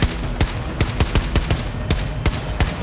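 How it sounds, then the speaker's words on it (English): Suppressed gunfire from a weapon in Battlefield 2042, heard as a rapid burst of sharp, muffled thumps in a quick, slightly uneven rhythm, loud and close with no talk over it. "And now with a suppressor in Battlefield 2042."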